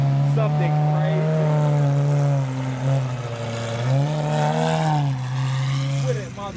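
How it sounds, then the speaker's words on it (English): A Lamborghini SVJ fitted with a Jatani exhaust revs close by, giving a loud, sustained engine drone whose pitch climbs, dips and climbs again before easing off. "We got the Jatani exhaust SVJ rolling in."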